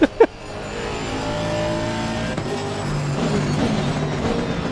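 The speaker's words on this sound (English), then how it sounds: "Doing an endurance race with a car that sounds like an angry wasp." A high-pitched, buzzing Aston Martin GT3 race car engine in Assetto Corsa Competizione revs steadily and loudly, its tone rising and falling, after two brief sharp knocks at the start.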